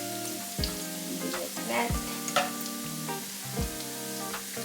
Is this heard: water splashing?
no